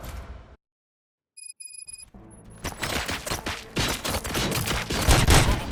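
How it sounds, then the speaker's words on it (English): A few brief electronic beeps in near silence, then rapid bursts of gunfire in the video game Robocop: Rogue City that build into loud, continuous shooting. "Gunshots? What's going on?"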